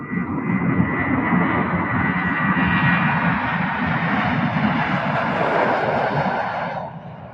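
A loud, steady roar of Rolls-Royce jet engines on a Boeing 757 at an airport fills the air, holding a constant broadband rumble before easing off slightly at the end.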